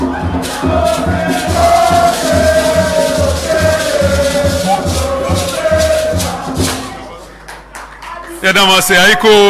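Crowd applause greeting the Ghana Black Stars football team at the Jubilee House, a dense wash of clapping that runs steadily under a speaking voice, dips briefly, then swells again near the end.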